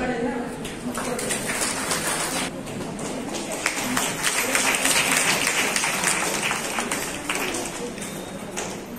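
An audience claps for women at a Women's Day gathering, a sustained burst of dense applause that swells and holds for several seconds.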